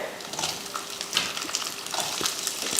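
A big onion frying with lentils in a pan for chutney, a steady close sizzle with scattered crackles and pops.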